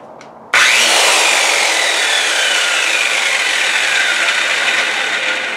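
A Craftsman circular saw with a 2 1/4 horsepower motor and 7 1/4 inch blade switches on abruptly and runs at full speed with a loud, steady high whine, winding down only slightly across several seconds, close by.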